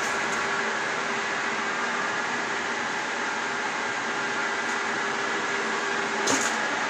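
A well-kept Caballeria TR 40 capstan lathe runs quietly, giving a smooth, unchanging machine drone with a faint tonal whine and a single brief click near the end.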